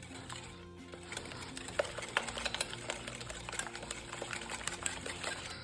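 Eggs and sugar for a lemon cake whisked with an electric hand mixer, a steady close whir with rapid rattling clicks of the beaters against the bowl and no speech.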